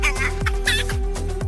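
Chickens clucking in quick repeated bursts, close and fairly loud, with a steady hum underneath.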